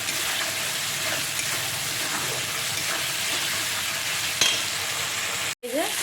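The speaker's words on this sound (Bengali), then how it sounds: "ভাজা ভাজা হয়েছে তেল খাচ্ছে" Chopped tomato frying with spices, turmeric and salt in hot oil, a steady loud sizzle with occasional stirring scrapes and a sharp clink near the end before the sizzle cuts out briefly.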